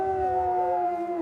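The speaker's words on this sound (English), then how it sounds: "They howl for many reasons." A Druid Peak pack wolf howls in the wild in a long, sustained, steady tone that holds close and loud with slight pitch waver throughout.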